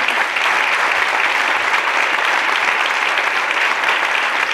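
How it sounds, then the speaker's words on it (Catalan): Continuous audience applause in a concert hall greeting a clarinetist at a live electroacoustic music performance, steady dense clapping from many hands with no voices. "En primer lloc, un aplaudiment per a Sabela Benito, la ballarina."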